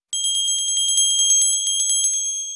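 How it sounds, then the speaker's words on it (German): A bright, metallic doorbell rings in a rapid, continuous trill for a couple of seconds, close and clear with no voices, during a puppet show. "Oh, es hat geklingelt."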